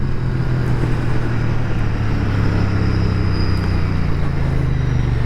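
A Royal Enfield Interceptor 650 twin motorcycle accelerates hard toward 60 mph on the road, its engine droning loud and steady with a rising pitch amid heavy wind rush.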